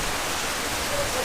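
Steady rain on Koh Phangan, Thailand, falls as an even, moderately loud hiss throughout the short moment, with no distinct drops or voices standing out.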